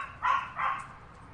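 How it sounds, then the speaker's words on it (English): A household dog barks indoors, two short muffled barks in quick succession at moderate distance, fairly faint over a low background hum. "Sorry, the dog's barking."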